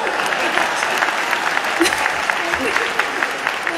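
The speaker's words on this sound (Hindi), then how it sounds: "तालियां बजाओ।" Audience applause at a Hindi comic poetry gathering (hasya kavi sammelan), a dense, steady wash of clapping from a large crowd that holds throughout, with some chatter and voices mixed in.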